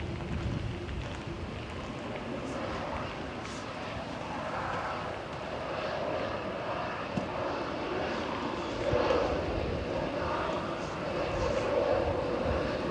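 A Boeing 777 airliner at Manchester Airport gives a steady, moderately loud jet roar that holds throughout and swells slightly near the end, with no talk over it.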